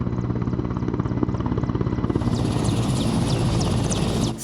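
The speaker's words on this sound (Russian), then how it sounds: "Строго в определенное время на землю приземляется вертолет Минобороны Республики." A Ministry of Defence military helicopter landing on a stadium field, heard close and loud as a steady rapid rotor chop with engine whine that rises in pitch toward the end.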